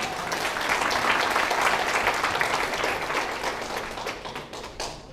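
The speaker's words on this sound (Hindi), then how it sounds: "जोरदार तालियां बजा लीजिए एक बार।" An audience in a seminar hall breaks into loud, sustained applause, dense clapping that holds steady for several seconds before thinning toward the end.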